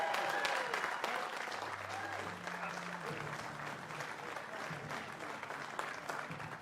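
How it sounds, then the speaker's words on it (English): Crowd applause at the podium ceremony of the STIHL TIMBERSPORTS British Rookie Championship 2024, a sustained outdoor clapping wash with a faint tone and murmuring underneath. "Huge round of applause."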